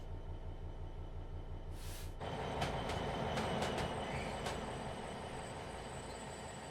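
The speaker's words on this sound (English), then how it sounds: "There's a train propelling out there" A ballast train in Train Simulator propels out of a yard on the Midland Main Line, with a steady low rumble of rolling wagons and a few sharp rail clicks and squeals, with no talk.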